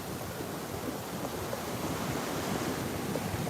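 Atlantic Ocean surf waves breaking at Juno Beach, Florida, a steady broadband wash of surf mixed with wind buffeting the microphone, continuous and moderately loud with no talk.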